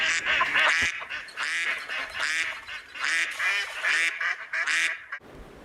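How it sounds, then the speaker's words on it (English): Repeated nasal quacks from ducks, loud and close, coming in quick bursts with short gaps across the whole stretch, ending in a brief quiet moment. "the sound of duck is quack"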